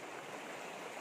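A river flowing, a steady broadband rush of moving water, even and continuous with no other sounds.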